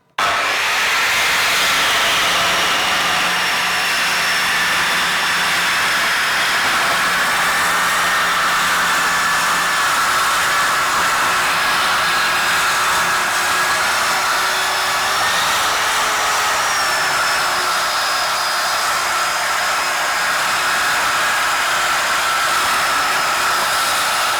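A Bosch GKS circular saw with a 1300-watt motor rips lengthwise through 2-inch-thick bangkirai hardwood, giving a loud, steady whining roar that holds for the whole cut without pause.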